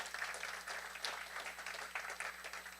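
A pitch competition audience at the New Orleans BioInnovation Center claps for the finalist judges, a moderate, even spread of applause from a room-sized crowd, steady throughout without voices on top.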